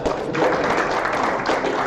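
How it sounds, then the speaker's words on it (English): An audience applauds in a workshop hall, a dense, steady wash of clapping hands that runs the full two seconds with no voices over it. "I think we can all applaud that."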